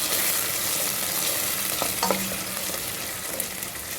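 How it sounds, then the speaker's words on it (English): Steady crackling sizzle of meat for meatballs frying in a pan, with a few light scrapes and clinks of stirring partway through. "As you can see, the meat's frying off lovely."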